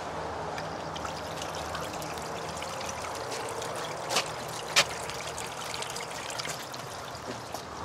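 A bubbling ball kit's pump running water, heard as a steady, continuous trickle and gurgle throughout, with a couple of brief louder splashes midway and no talking.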